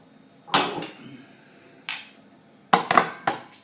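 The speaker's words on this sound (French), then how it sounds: "Je mets mes verres à l'intérieur." Glass ramekins set down one after another inside a baking mould prepared for a bain-marie, giving sharp clinks and knocks: one near the start, a lighter one, then a quick cluster of three at the end, close and clear.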